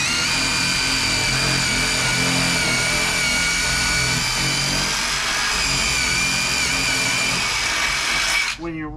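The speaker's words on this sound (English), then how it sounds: "When you're drilling, you can see I'm actually getting into wood with a masonry" A power drill with a masonry bit bores into wood while a security door is installed, giving a loud, steady whine close up for most of the stretch before winding down at the end.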